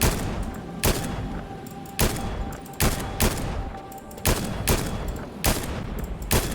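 Repeated gunshots from a rifle in Fortnite ring out in a steady rhythm, roughly one every half second to second, loud and sharp over a constant background din of loud music.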